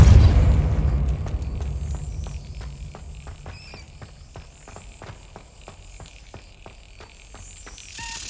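A Depulso spell is cast in the Hogwarts Legacy video game: a deep rumbling boom at the start, then a steady run of faint ticking clicks over a low hum.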